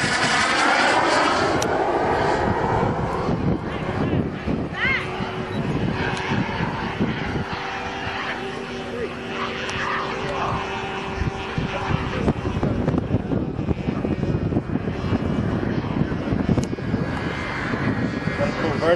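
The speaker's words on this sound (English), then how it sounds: "Flyby." A model airplane, a Bavarian Demon built as a boomerang-style RC plane, makes a loud buzzing flyby over an open field, its propeller drone steady for most of the pass with shifting pitch and wind noise throughout.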